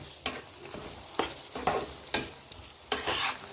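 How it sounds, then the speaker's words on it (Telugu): A spoon scrapes and stirs capsicum masala curry with ground paste in a pan, giving several distinct scraping strokes spaced irregularly over a soft background sizzle. "పేస్ట్తో కూడా కలిపేసుకుందాం"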